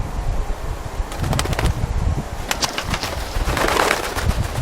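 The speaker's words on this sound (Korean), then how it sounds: "사체 청소부 고산 민목 독수리가 때로 몰려왔다." A flock of Himalayan vultures crowds onto a carcass in the high Pamir mountains, wings beating and flapping in loud, dense bursts over a steady rustling din.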